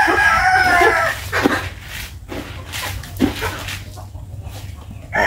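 A rooster crows loudly at the start, followed by scattered clucking and rustling from egg-laying chickens nearby.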